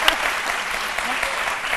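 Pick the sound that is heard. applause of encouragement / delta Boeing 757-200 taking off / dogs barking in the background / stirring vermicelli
applause of encouragement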